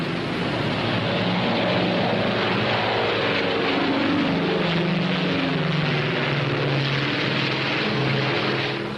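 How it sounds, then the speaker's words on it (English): Twin-engine P-61A Black Widow night fighter taking off, a steady, loud propeller engine roar holding level throughout with no voices. "Yes, the P-61A takes off like a homesick angel"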